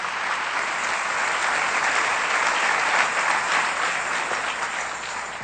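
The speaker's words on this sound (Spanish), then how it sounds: "Le da un aplauso bien fuerte al Rey bendito." Loud, steady applause from a church congregation fills the whole stretch, a dense wash of many hands clapping together without a break and no voices rising above it.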